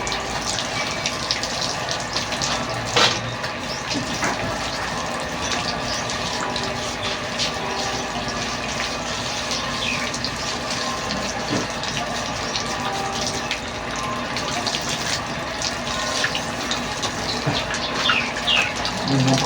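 Water runs continuously through the soil of a freshly repotted tamarind bonsai and out of its pot, a close, steady gushing and trickling with small splashes and no clear speech.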